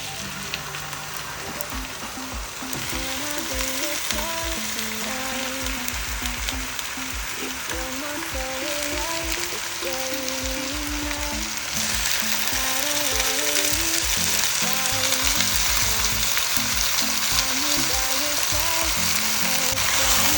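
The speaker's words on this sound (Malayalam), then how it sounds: "ഇനി നമുക്ക് ഈ ചിക്കൻ പീസ് ഓരോന്നായിട്ട് ഇട്ട് കൊടുക്കാവേ." Chicken pieces fry in a pan with translucent onions for an Arabic-style majboos, making a dense, loud, continuous sizzle that swells slightly partway through, with music playing underneath.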